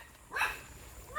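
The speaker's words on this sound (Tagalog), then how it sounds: "sinasalubong na tayo ng aso nila" A dog barks once or twice in greeting as visitors arrive, a short faint yelp at moderate distance.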